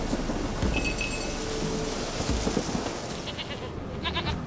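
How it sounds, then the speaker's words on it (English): A goat bleats in The Witcher 3 video game, short nasal cries over a constant rain-like hiss with a few faint clinks. "Here, goat."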